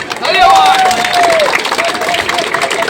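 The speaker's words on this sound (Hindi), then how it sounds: "मैं चाहूंगा कि आप लोग अपने लिए बहुत बहुत तालियां बजाएं एक बार" Marathon runners gathered in monsoon rain clap and cheer loudly as a crowd, with a rising whoop or whistle over the steady wash of applause.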